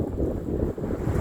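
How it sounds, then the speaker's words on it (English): Strong wind buffets a microphone outdoors in a low, continuous rumbling roar that stays loud and steady. "It's a little windy,"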